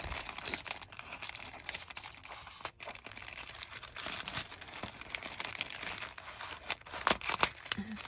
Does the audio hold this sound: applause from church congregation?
no